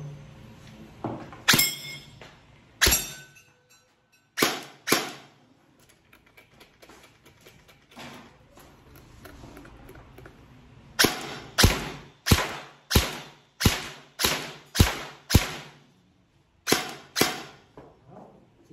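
A G&G Wildhog 7-inch airsoft gun with a Spitfire tracer unit fires loud, sharp single shots close by, first scattered, then a rapid run of about ten evenly spaced cracks. A quieter handling pause comes in between, and no one speaks.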